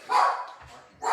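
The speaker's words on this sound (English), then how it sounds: "Sorry about my dog barking." A dog barks close by indoors, one loud bark followed by a second starting, during a card-making session.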